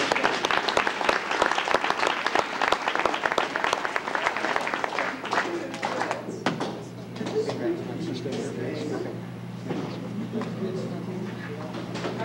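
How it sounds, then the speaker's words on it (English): A wrestling banquet crowd claps loudly and densely for several seconds, then the applause fades into murmuring room noise and scattered chatter. "let's give him one more round of applause"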